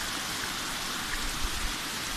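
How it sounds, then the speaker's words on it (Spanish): A heavy, intense rain shower in the Sexi district, a dense, steady hiss of downpour filling the air evenly and without letup. "Se nos agarró una lluvia, pero recontra infernal."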